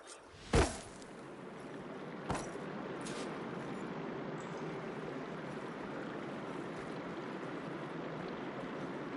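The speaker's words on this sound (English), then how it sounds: "Aloy, I can hear water in the room again." Running water inside a room in the video game Horizon Forbidden West, a faint, steady rushing flow throughout, with a couple of brief sharp clicks near the start.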